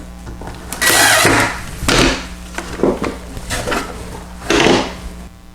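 A screw is driven into a wooden drawer box in a few short bursts of driving and knocking with small pauses between them, close by and fairly loud.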